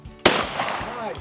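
A single loud shotgun blast at an outdoor sporting clays range, a sharp close crack with a ringing tail, followed by a short cheer.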